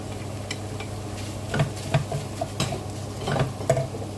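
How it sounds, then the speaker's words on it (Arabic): Minced kofta meat frying with sautéed onions in a pan, a steady low sizzle broken by a few stirring scrapes and soft utensil taps, no voices. "هنايا بعد ما تشحرت البصله مزيان، غادي نضيفو الكفته ديالنا"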